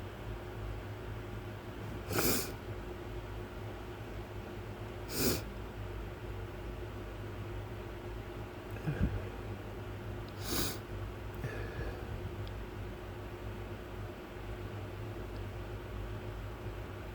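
A pet sneezes and snorts several times, short bursts spaced apart over a quiet room hum, fairly close.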